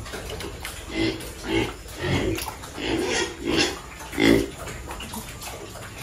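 Several pigs grunt and squeal in repeated bursts while being fed, over a constant watery, sloshing background, fairly close and loud.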